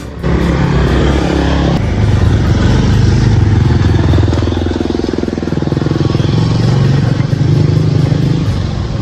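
A motorcycle engine revs loud and close the whole time, with a steady rough drone and some clatter, while voices come through faintly underneath.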